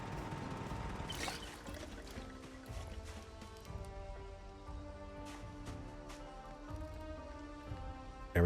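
Water pumped from a natural source in the survival game Project Zomboid, a steady liquid pouring and trickling sound with faint splashy ticks, running continuously and fairly quietly with no voices.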